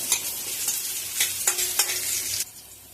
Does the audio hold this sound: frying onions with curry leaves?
yes